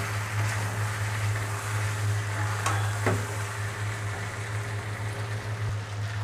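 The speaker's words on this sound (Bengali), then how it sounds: "আলুগুলো আমি মাংসে দিয়ে দেব আর সামান্য একটু সময় আমি মাংসটি কষিয়ে নেব।" Chicken curry with fried potatoes sautés in a pan, giving a steady soft sizzle with a low hum underneath and a couple of brief scraping stirs, without any talk.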